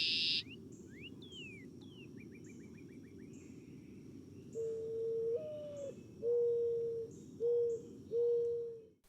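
Outdoor birdsong with several species removed: a thin chirp and a quick trill open over a steady low background, then a dove or pigeon coos loudly in four or five separate phrases nearby.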